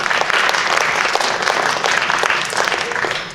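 A steady, loud burst of audience applause fills the hall after a student research presentation at an academy event, dense clapping throughout with no speech.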